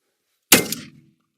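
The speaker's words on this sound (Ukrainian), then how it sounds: "Увага, постріл." One sharp, loud pistol shot cracks with a metallic clang on impact against a ceramic armor plate, then rings out and fades quickly into silence.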